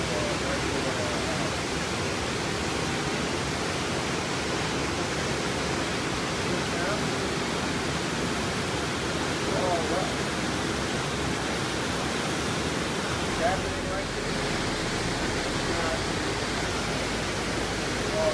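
A 25 ft waterfall pours out a steady, broad rushing hiss, heard from a lanai above without change or pause.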